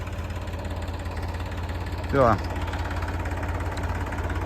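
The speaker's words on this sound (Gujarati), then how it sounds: "રાજુ બાપુનું ટ્રેક્ટર છે અમારે 45-10 એટલે હાઉસ પાવર 45 આવતું નહીં" A 45-horsepower tractor engine idles with a steady, low, pulsing throb. A voice briefly speaks over it partway through.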